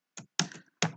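Three distinct keystrokes on a computer keyboard, close and crisp, spaced unevenly across a second with near silence between them.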